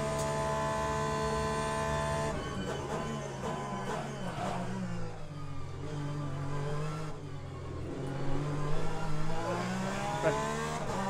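Ferrari race car engine in the Le Mans Ultimate racing game, a steady high-pitched whine that drops and climbs as it shifts and revs through corners. It sounds loud and close, with a brief tire squeal and no talk.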